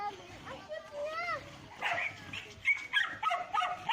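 A newly adopted stray dog yips and whimpers in short bursts close by, under people talking.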